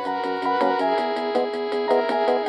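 A 1990 home computer plays a thin, bright melody with a steady, quick pulsing rhythm of short repeated notes, alone and at a moderate level.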